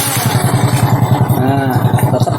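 A Honda Supra X motorcycle engine running up close, a loud steady pulsing idle with a rhythmic mechanical putter filling the whole clip.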